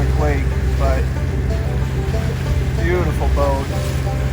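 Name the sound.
boat on Pickwick Lake, bouncing in waves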